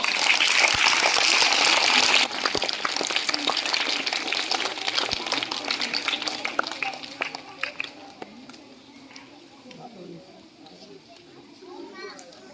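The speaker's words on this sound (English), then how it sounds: "Welcome her with a huge round of applause." A crowd claps loudly and steadily at a children's school colour day celebration, with children chattering underneath; the applause gradually fades and thins out until only scattered voices remain.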